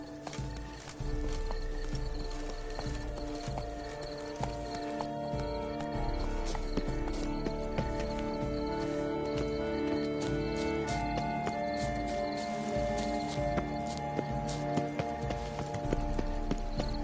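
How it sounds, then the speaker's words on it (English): Horse hooves clip-clop steadily in The Witcher 3: Blood and Wine as the horse moves through the huge gardens of Toussaint, a continuous rhythmic patter laid over game ambience and music, with no talk. "Be better off on horseback."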